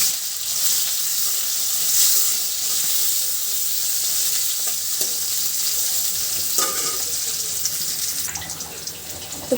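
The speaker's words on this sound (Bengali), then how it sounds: "এখন দিয়ে দিচ্ছি কড়াইয়ের ভিতরে পেঁয়াজ।" Onions sizzle in hot oil in a heated wok, a bright steady frying hiss that holds throughout with a few stirring clinks near the end.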